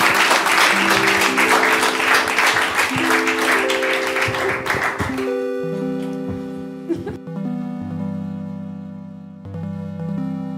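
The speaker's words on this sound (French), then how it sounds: "Je propose qu'on fasse un tonnerre d'applaudissements Aurore." An audience at a children's storytelling event breaks into a burst of applause that fades after about five seconds, giving way to a gentle melodic musical tune.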